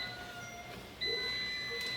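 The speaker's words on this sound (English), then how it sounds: "y'all hear that timer going off" A thin electronic beeping tone from a kitchen timer sounds steadily against a quiet room hum, a faint alarm going off nearby.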